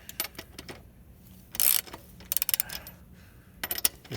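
Ratchet wrench loosening a motorcycle axle clamp, a few short clicking strokes and a brief louder burst, close by but faint, with quiet gaps between.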